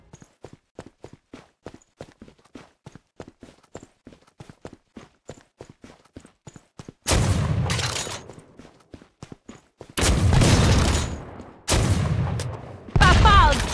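Gunfire in the Killing Floor video game while shooting mutants: a long train of sharp, rhythmic single shots, then several loud sustained bursts of heavy firing that come close and dominate the mix.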